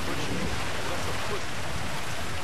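Rain in the GTA 5 video game, a constant even hiss of falling rain with no breaks across the short stretch.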